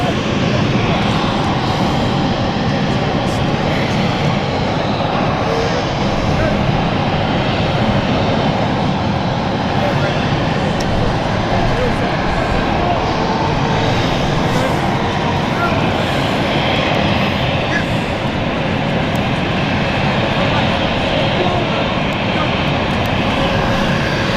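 A jet airliner starts its engines on a stand at London City Airport, giving a loud, steady broadband roar that holds unbroken throughout.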